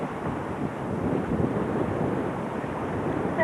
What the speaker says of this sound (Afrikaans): So ons praat van 30, 28 knope wind nou.